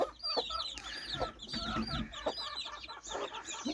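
Gray Ataks chickens cluck and chatter close by, several birds calling softly over one another in a busy, uneven flurry.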